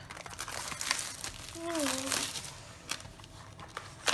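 Plastic wrapping crinkles and crumples at close range as a package of Pokémon cards is opened, with a few brief rustles breaking through a steady background hum and a short faint whistle-like tone in the middle.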